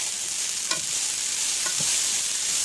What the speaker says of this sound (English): you're going to move this around so that all of the rice gets coated in the oil